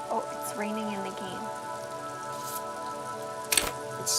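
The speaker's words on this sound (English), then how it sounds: "Oh, it's raining in the game." Steady rain patters in the video game Disco Elysium, a soft hiss with scattered drops running through the whole stretch, joined by a couple of brief sharper taps near the end.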